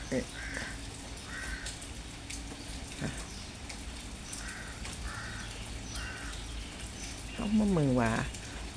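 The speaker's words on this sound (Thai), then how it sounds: "อีกา" A crow caws several times in short, harsh bursts at a moderate distance over a soft, steady background hiss, and a voice speaks briefly near the end.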